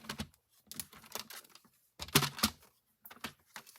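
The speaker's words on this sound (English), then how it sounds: "I'm just going to trim a little bit off the top." A papercraft card is trimmed along its top edge in a run of short, close, crisp scraping and clicking bursts with brief pauses between them, and no voices.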